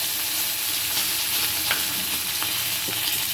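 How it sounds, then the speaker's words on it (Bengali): Dried red chillies and whole cumin seeds sizzle steadily in hot oil for a vegetable khichdi tempering, a continuous close frying hiss with occasional faint stirring clicks and no voices. "শুকনো লঙ্কা ফোড়ন দিলাম, দিয়ে দিলাম গোটা জিরে"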